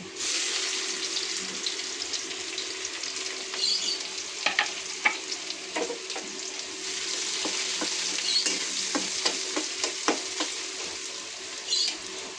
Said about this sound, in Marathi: कांदा चांगला फ्राय करून घ्यायचा